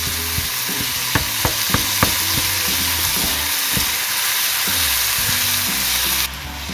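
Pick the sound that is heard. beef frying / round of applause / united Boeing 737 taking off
beef frying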